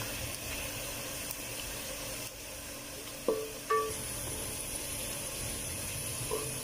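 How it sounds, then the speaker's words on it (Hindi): Dry whole spices frying in hot oil in a pan for chicken pulao: a steady, soft hiss throughout, broken by a couple of sharp metallic clinks near the middle, with no talking. "ये सारे कुछ मसाले इसमें डाल देंगे। थोड़ी देर तक इसको भूनेंगे ऐसे"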